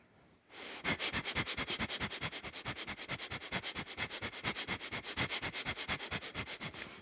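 Rapid, rhythmic nasal sniffing breaths during a breathing practice, about four per second, steady and close for several seconds without talking.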